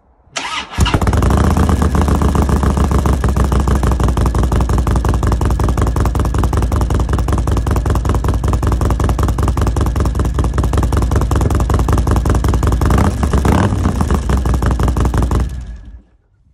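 A Harley-Davidson Road King motorcycle fitted with loud fishtail exhaust pipes fires up and then idles with a steady, heavy rumble. The sound stays loud and close for about fifteen seconds and cuts off at the end.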